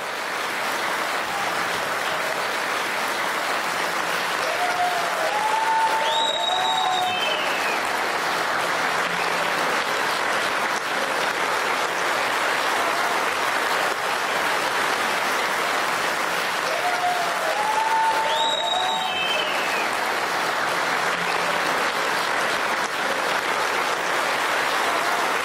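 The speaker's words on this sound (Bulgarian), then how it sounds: "Моля вашите аплодисменти за нейно актьорско величество Стоянка Мутапова!" An audience applauds a veteran stage actress, Stoyanka Mutafova, at a comedy gala, with sustained dense clapping that swells and fades across the whole stretch, broad and steady with a few faint whistles or cheers rising above it.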